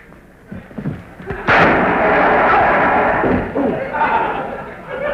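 Gunfire in a 1998 western film, a heavy booming shot that rolls out into a long, loud rumbling echo, with faint voices and movement beforehand.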